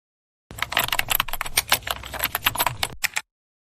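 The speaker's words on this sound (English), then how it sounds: "Now I am going to type the answer to the 4th question." Fast, uneven clicking of keys on a computer keyboard, close and crisp, running for about three seconds before stopping abruptly.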